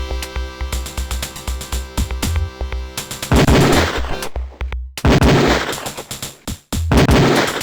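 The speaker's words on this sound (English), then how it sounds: "You load your Beretta." Rapid Beretta pistol shots crack out at a firing range in the Police Quest IV game, loud and close, firing in quick bursts with brief pauses between volleys over a steady low background tone.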